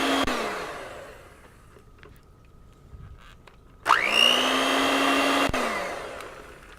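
A hand-held electric mixer whirs through chocolate chip cookie batter, its steady motor drone dropping away and then starting up again loud and close with a rising whine before running evenly.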